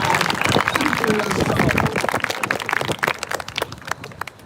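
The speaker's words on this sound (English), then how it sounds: "Big round of applause, WWAY" A crowd at a candlelight vigil for the missing gives a big round of applause, dense clapping that is loud at first and then thins into scattered claps.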